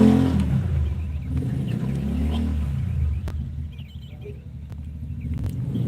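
A Honda Supra motorcycle engine rumbles loudly nearby, revving and droning steadily as it passes along the street, with low throaty tones throughout.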